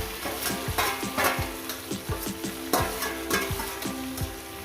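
Eggplant and tomato stirred together in a hot pan with crushed dried chilli, a steady sizzle under repeated scraping stirs of the spoon, close and fairly loud, with no talking.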